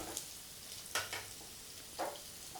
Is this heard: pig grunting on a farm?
no